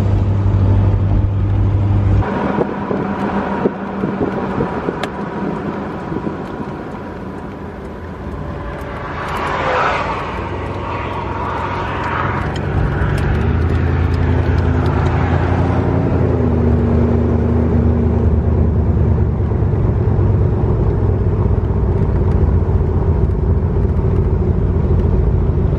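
A Corvette being driven on a public road, its engine droning and rumbling steadily for the whole stretch with road and wind noise, first drive after new half shafts were fitted; no talking.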